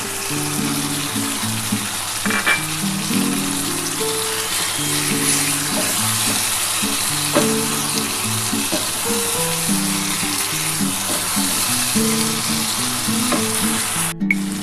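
Spiced mutton and fat fry in a pan, giving a loud, steady sizzle with scraping stirs throughout and a humming tonal background underneath.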